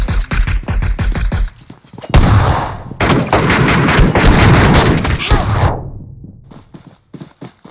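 Gunfire in PUBG: rapid bursts of single shots give way to sustained automatic fire and heavy blasts, loud and close, then a few scattered shots trail off.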